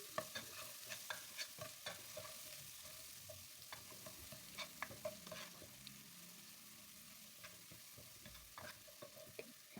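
Steady frying sizzle of spice paste in oil under repeated scraping and clinking of a utensil stirring in a pan, with no talking.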